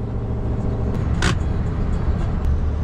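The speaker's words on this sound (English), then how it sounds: "This hill is making the old R-Series chug." An old Scania R-Series truck engine labours up a steep hill with a continuous heavy, low drone heard from the cab, a brief hiss breaking through midway.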